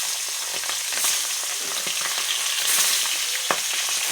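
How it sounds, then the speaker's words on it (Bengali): Fish tails sizzle in hot oil in a pan, a dense, steady crackle close up with occasional sharper pops and stirring clinks, and no voices. "তো এখন আমি মাছগুলো লেজগুলো ভাজা করে নেব।"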